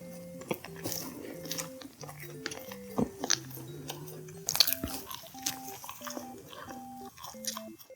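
Someone bites into and chews a salt bread roll with a dry, slightly crumbly texture, giving soft, close crunches and chewing sounds over quiet background music.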